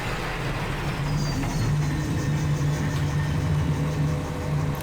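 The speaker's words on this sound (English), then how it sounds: "God, that John Deere's noisy, isn't it? Kind of sounds like a washing machine." A John Deere tractor engine in the Farming Simulator 17 farming game drones steadily and loudly with a constant low hum and rumble throughout, with no talking.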